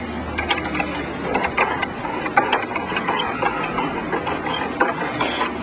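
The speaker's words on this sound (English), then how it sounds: "Then you want to get your other two bolts in there." Bolts on a bicycle handlebar stem being threaded in and tightened, a close run of irregular small ratcheting clicks and metallic ticks over light handling noise, with no voices.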